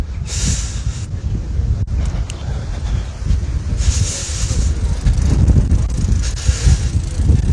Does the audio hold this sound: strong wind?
yes